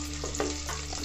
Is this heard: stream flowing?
no